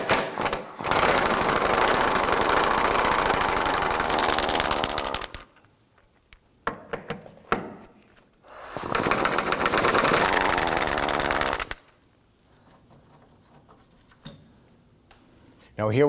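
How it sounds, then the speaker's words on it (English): Impact gun loosening 15mm bolts on a 2008-2011 Ford Focus during trailing arm bushing work, two long loud continuous rattling bursts of several seconds each, separated by a pause with a few clanks and light handling noises. "So we can use our impact gun and loosen and remove these."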